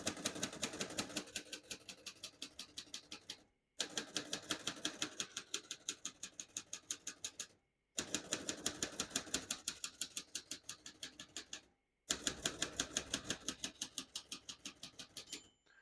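Keys on a 1939 Royal Arrow portable typewriter strike in fast, even runs of sharp clacks, close and crisp, with four long bursts separated by brief pauses.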